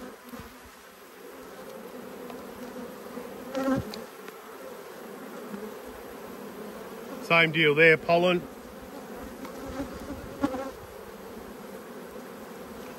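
Honey bees buzz around an opened backyard hive during frame handling, a steady close hum of many insects with individual bees zipping past loudly, while someone talks briefly.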